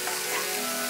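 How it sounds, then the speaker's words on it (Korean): Chopped celery and onion sautéing in a dry, unoiled pan, giving a steady, close crackling sizzle that holds evenly throughout, with no one speaking. "아무것도 두르지 않은 팬에 샐러리와 양파를 수분이 없어지도록"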